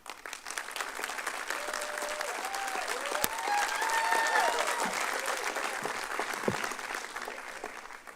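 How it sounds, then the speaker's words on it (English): Sustained applause from a crowd fills a school board work session room, a dense steady patter of many hands with some cheering voices mixed in, continuing throughout. "can we please knock off the applause?"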